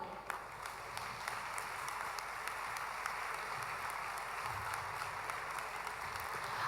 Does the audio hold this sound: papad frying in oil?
no